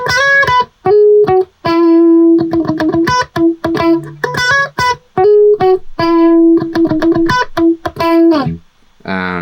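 A guitar lead melody for a remix plays loud and bright in short, choppy phrases, with chopped vocal snippets stuttering underneath and a brief percussive hit at the close.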